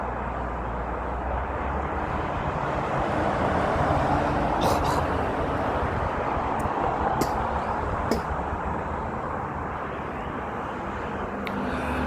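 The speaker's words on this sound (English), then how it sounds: "I just see all these cars going by on the road" Steady traffic hums past on a nearby road, a continuous broad wash of engine and tire noise, with someone talking throughout.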